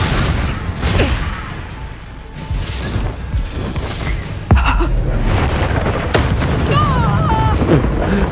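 A Confringo fire spell blasts in Hogwarts Legacy as a sharp, loud boom around the midpoint. Cluttered magical combat sounds and crashes surround it, with voices talking through the action.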